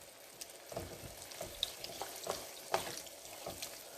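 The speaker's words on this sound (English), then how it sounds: "we're going to go ahead and add a can of minced clams" Canned minced clams go into a hot pan for a smoked paprika seafood linguine, a soft sizzle with faint stirring scrapes and light splashes, quiet and close.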